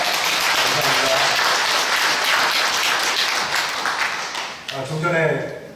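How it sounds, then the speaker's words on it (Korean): A church congregation claps to encourage two choirs, steady dense applause filling the room for several seconds before tapering, with a speaking voice coming in near the end. "두 찬양대와 찬양대에 위해서 같이 한번 격려 박수하겠습니다."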